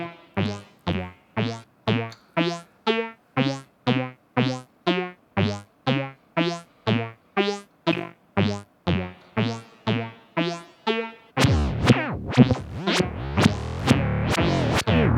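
Synthesized tones pulse in a steady rhythm with reverb tails, then give way to a dense, loud wash of electronic noise.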